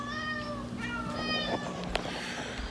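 Several cats meow in a room full of cats, with repeated harmonic calls rising and falling over a steady background hum; a few clicks and footsteps intrude, and the meows stay fairly close and clear.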